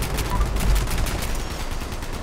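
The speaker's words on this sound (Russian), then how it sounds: "Нравится мне, конечно, как у меня работает теперь взрывной эффект." An explosive weapon effect fires in Fallout 76, giving a short burst of rapid, loud blasts that overlap into a rattling volley for about two seconds.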